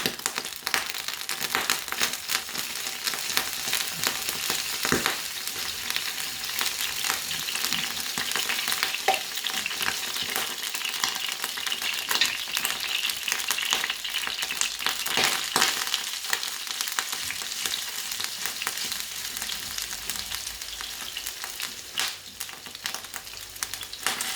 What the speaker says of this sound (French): C'est parti pour la cuisson. Dans une grande poêle, j'ai pris soin de mettre de l'huile d'olive à faire chauffer.